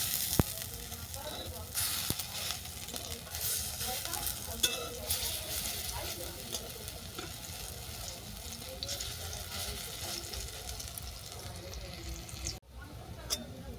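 Bottle gourd peel fritters fry in hot oil with a steady, dense sizzle that runs throughout, broken by light scraping as they are flipped, while a voice talks faintly underneath.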